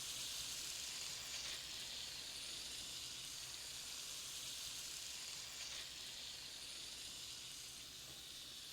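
Shrimp fry in vegetable oil in a skillet, giving a steady, even sizzle and hiss that holds throughout at moderate loudness with no talk over it.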